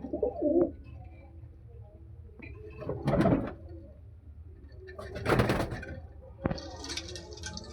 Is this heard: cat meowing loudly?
no